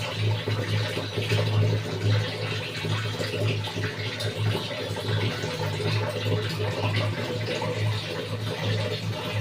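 Rice being washed by hand in water, rubbed again and again, giving a steady swishing, sloshing of water and grains with a low hum underneath and no speech.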